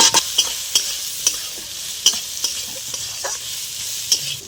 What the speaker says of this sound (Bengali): তো পেঁয়াজটা ভাজা ভাজা করে নিতে হবে।